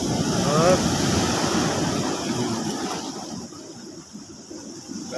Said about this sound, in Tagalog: Laki ng alon na yun.